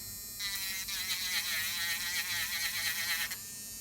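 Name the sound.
AIRSEE cordless nail drill running at 30,000 RPM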